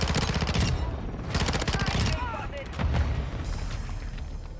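Rapid bursts of P90 submachine gun fire in Modern Warfare 2, dense crackling volleys with short pauses between, loud and close, with game effects and a voice talking over part of it.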